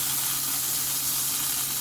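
Beef tenderloin searing in a hot frying pan, a steady, dense sizzle and hiss of fat and moisture that stays even and close throughout.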